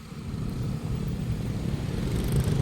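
Motorcycle riding on a rural road at night, a steady engine drone and wind rush continuing throughout, fairly loud and close, no voices.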